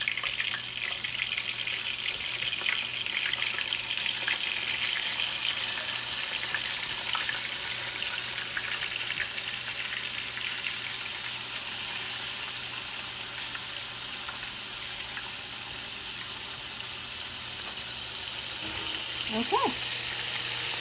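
Cube steak frying in a pan on medium high heat gives a steady, soft, even sizzle that lasts throughout, with a brief word spoken near the end.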